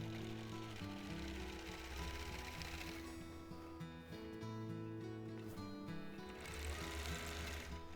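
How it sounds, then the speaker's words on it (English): Sewing machine stitching a dividing line on a mountain-themed custom quilt, a continuous fast mechanical whirr with steady needle rhythm, close and alone, shifting pace slightly partway through. "now we would be stitching up this next"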